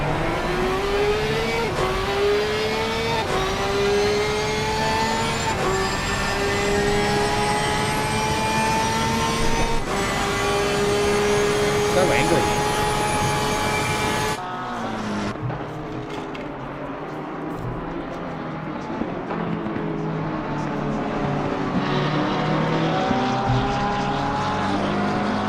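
Porsche race car in a PC racing game at Suzuka, its engine screaming loudly through repeated upshifts with rising and falling revs, then another car's engine note cutting in nearby as the cars run close together.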